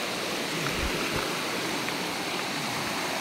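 Steady rushing of a flowing stream, a broad continuous water wash with small low splashes near the start, no voices.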